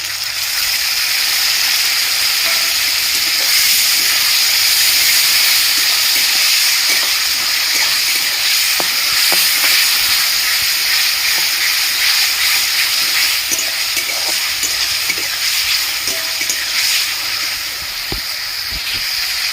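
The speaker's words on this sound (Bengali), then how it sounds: "সিমগুলো আমি দিয়ে দিচ্ছি" Flat beans hit a hot pan and fry with a loud, steady, close hiss that runs unbroken for the whole stretch, with faint scattered crackles and spits mixed in.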